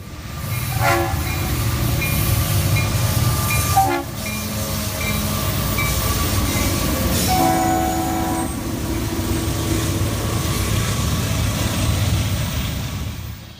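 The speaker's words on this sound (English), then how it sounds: "nice Leslie horns on the SD60M/SD60i or good Nathan P5 horns on the original SD60s" An EMD SD60 diesel locomotive hauls a train past with a loud, continuous rumble, sounding its horn in several blasts that ring out above the steady wheel and engine noise.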